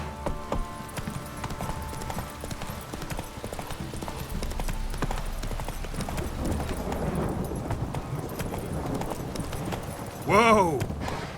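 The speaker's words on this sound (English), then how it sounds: "Run, Roach" A horse in the video game The Witcher 3 gallops with rapid, steady clip-clop hoofbeats under game sounds and possible voices, ending in a loud whinny near the close.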